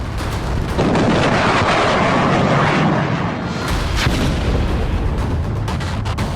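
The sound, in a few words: cluster bomb explosion in Israel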